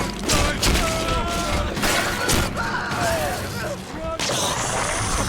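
Loud gunfire bursts from BioShock 2 gameplay crack through dense noisy game action, mixed with shouting voices and clanking effects.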